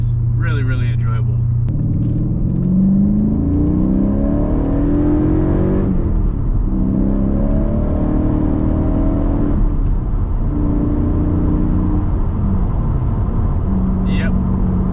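A Mercedes CLK550 with an M273 V8 and a factory manual swap accelerates at about three-quarter throttle on a smooth road, its engine note rising through the gears in steady sweeps with brief dips at the shifts, loud and close with road rumble beneath.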